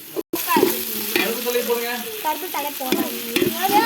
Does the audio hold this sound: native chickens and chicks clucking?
no